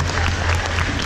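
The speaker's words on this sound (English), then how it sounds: "Let's give Shelby a big round of applause." An audience at a Halloween-event stage show claps in a dense, steady burst of applause, the crowd filling the space evenly for a short moment.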